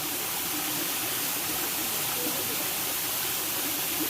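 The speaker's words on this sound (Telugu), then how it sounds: "నా వెనకాల ఉందే వాటర్ ఫాల్." Mahitapuram waterfall near Warangal, running at low flow, gives a dense, even roar of falling water that holds steady and unbroken, heard alone without talk.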